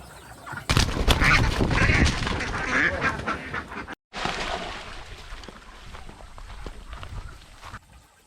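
Loud, repeated duck quacking from a noisy flock nearby, calls overlapping in a busy burst that thins out after a brief pause.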